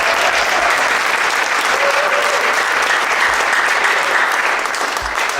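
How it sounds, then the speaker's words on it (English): A jazz festival audience applauds the saxophone section of a university band, a loud, sustained wash of clapping from a large crowd that holds evenly throughout. "Please give them your applause."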